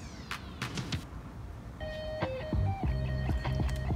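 Music plays from a JBL Charge 3 Bluetooth speaker sitting in water. A few sharp splashes and knocks come first, then tonal notes and a beat start about halfway through, fairly loud and close.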